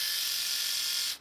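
An electric shaver or clipper buzzes steadily and close during a haircut, a continuous whine lasting about a second before cutting off.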